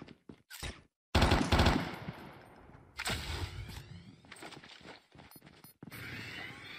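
Bursts of automatic gunfire in Call of Duty Mobile, rapid rattling volleys broken by short gaps and mechanical clicks, moderately loud with no talk.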